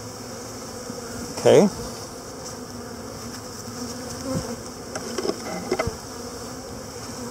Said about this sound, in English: if the bees go back inside of their hive, it's an indication that the queen is in there